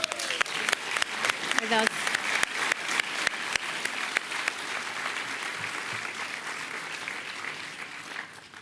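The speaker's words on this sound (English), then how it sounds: "We want to give a big applause also to the director, Courtney Stevens, who is here" Audience applause for a director at the award ceremony of the 77th Locarno Film Festival: steady, dense clapping fills the hall throughout, with a voice briefly speaking over the start before the clapping carries on alone and slowly thins.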